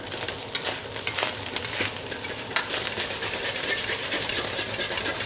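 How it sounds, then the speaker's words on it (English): Metal utensil scrapes and stirs across the bottom of a hot frying pan, loosening burned-on protein during a dan dan noodle cook, with steady sizzling and a few sharp clacks, close and fairly loud. "I'm gonna scrape the bottom of that pan to get all that burned on protein off"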